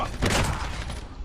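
In Call of Duty Mobile, hip-fire gunfire rattles out in a rapid, dense burst of close, loud shots lasting about a second before trailing off.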